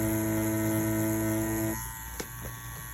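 Mummy wireless tattoo machine buzzing with a steady, strong electric hum that cuts off partway, followed by a faint click and low background hum, no talking.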